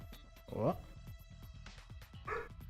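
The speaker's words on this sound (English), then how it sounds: "That's the dog." A dog gives a few short barks and yips in the background, fairly faint, while a person talks nearby.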